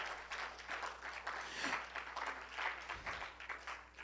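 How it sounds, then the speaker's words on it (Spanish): A Pentecostal church congregation claps together in steady, dense applause that fills the room at moderate volume, with a brief low thump partway through and no clear speech over it. "Denle un aplauso al Señor, aleluya."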